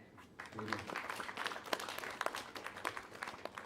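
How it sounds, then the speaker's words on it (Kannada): An audience applauds the film's producers at a Kannada film song release event, a dense burst of clapping that starts after a short pause and carries on steadily, with scattered sharper claps standing out. "ನಮ್ಮ ನಿರ್ಮಾಪಕರಿಗೊಂದು ಚಪ್ಪಾಳೆ"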